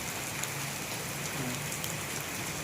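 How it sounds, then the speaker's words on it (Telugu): Steady rain patters down on a surface, a soft continuous hiss with scattered drops, fairly quiet and with no voices. "మధ్యలో వర్షం కొట్టింది"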